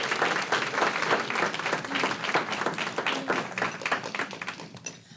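Applause for students at a school board meeting, a room of people clapping steadily and fairly loud for about five seconds before tapering off at the end.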